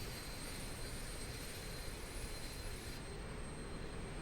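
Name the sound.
De Havilland DHC-6 Twin Otter engine starting, Flight Simulator video game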